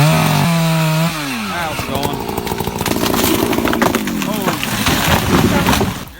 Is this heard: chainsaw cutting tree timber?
yes